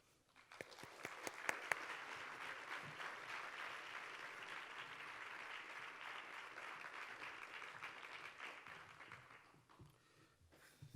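An indoor audience at an arts-in-education talk gives steady, sustained applause to welcome the speaker. It starts with a few sharp individual claps, swells into a full, even wash of clapping for about eight seconds, then tapers off.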